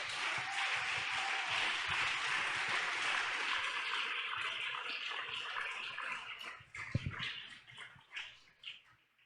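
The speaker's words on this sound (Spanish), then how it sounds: "Dele ese aplauso al Señor." Sustained applause from a church congregation, steady and dense for several seconds, then thinning into scattered claps as it fades.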